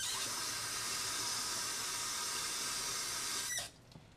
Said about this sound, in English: I'm going to empty the contents of the bedpan into the toilet, and then I'll rinse the bedpan.